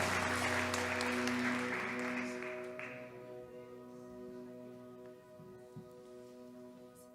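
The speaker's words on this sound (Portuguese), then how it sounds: "Aplauda Jesus e pode sentar." A church congregation claps together loudly, the applause thinning and fading out over several seconds, with soft organ-like tones sustained underneath.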